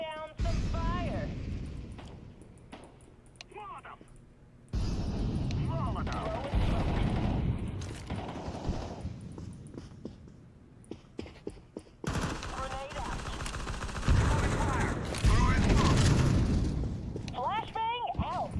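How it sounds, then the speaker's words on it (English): Bursts of automatic gunfire and heavy blasts from a shooter video game come in loud rolling waves, breaking off twice into brief lulls, with voices talking over the battle. "Laying down some fire."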